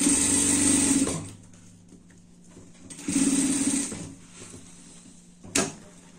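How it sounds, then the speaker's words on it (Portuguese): A sewing machine runs in two loud, close bursts of rapid stitching while topstitching a pumpkin-orange Halloween dress, with quiet handling sounds between runs and a brief clunk near the end. "vamos prespontar nossa peça toda"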